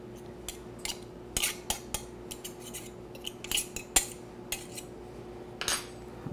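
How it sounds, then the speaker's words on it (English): Butter being scraped off a metal pastry cutter in a home kitchen: a sparse run of short, close metallic clicks and scrapes, spaced irregularly over a quiet background hum. "I'm going to scrape some butter off of this pastry cutter."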